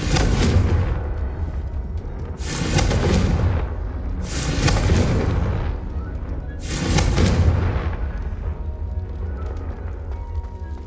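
Repeated Confringo fire-spell blasts in the game Hogwarts Legacy, arriving as three loud booming bursts spaced about two seconds apart, each a broad crackling explosion set over a steady background rumble.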